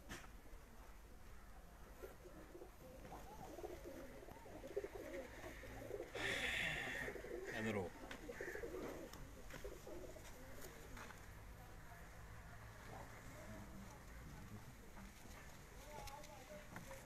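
Lakhi breed pigeons cooing softly in the background, a low murmuring coo with a brief louder flutter midway, under near-continuous talk from a man nearby.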